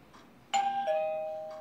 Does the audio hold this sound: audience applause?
no